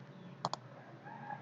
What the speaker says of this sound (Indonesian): hanya dengan tekan shortcutnya Ctrl Shift plus titik koma